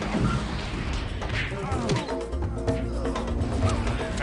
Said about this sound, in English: let's have her use Tornado on the warrior training hook because I want that gone